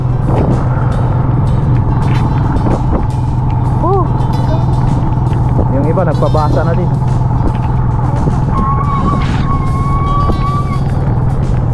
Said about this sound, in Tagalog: Pasensya na kayo kung medyo maingay yung preno natin